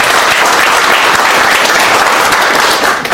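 Loud, dense applause welcoming a guest at the founding general meeting of a Korean citizens' movement, continuous clapping from a large crowd that stays strong and even before tapering slightly at the end.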